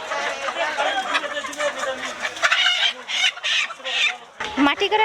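Native chickens cluck in a busy village market in Bagerhat, with crowd chatter and voices of people talking throughout; the clucking comes in short bursts mixed into the steady market noise.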